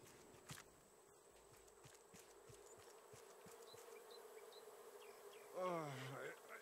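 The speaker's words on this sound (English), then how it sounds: "Yeah, stung by bees," Bees buzzing in the survival game Raft, a faint continuous drone with scattered light ticks and footsteps, swelling into a louder, closer buzz near the end, no voices.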